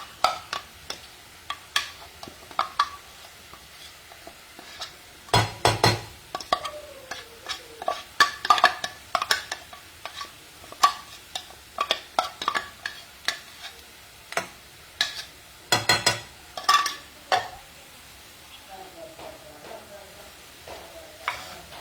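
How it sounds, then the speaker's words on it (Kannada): Onions frying in a pan while a spoon stirs them, with soft sizzling under repeated scraping and clinking strokes that come in bursts, close up, no talking. "ಆನಿಯನ್ ಚೆನ್ನಾಗಿ ಫ್ರೈ ಆಗಿದೆ."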